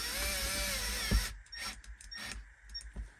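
A power tool, likely a drill or impact driver, runs briefly while bolts are tightened during truck reassembly, then stops and gives way to a few short mechanical clicks and clatters nearby.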